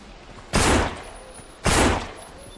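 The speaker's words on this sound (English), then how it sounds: "I hear your gun. That's real close." Two loud, close gunshot bursts from a firearm in the zombie survival game No More Room in Hell, each a sharp blast with a short decaying tail, about a second apart, over quiet background.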